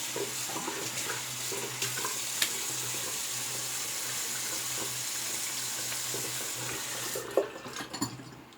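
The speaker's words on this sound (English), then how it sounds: "We're going to run it down, get it warmed up a little under the tap." Water running steadily from a bathroom tap, warming a double-edge razor before a shave: a continuous close hiss and splash that cuts off near the end, followed by a few small handling clatters.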